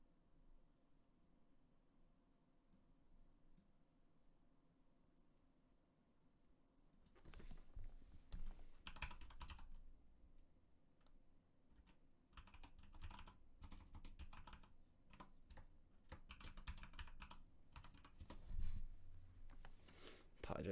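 Rapid clacking of computer keyboard typing starts after a quiet stretch and runs on in irregular bursts, faint and close, with occasional mouse clicks.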